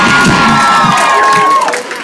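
A concert crowd at a live show in Seattle cheers and whoops loudly all around, a dense roar with shouts that begins to fade near the end.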